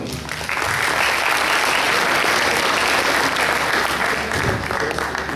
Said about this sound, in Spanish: Un aplauso para los compañeros.